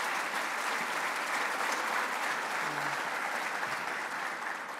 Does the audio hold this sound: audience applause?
yes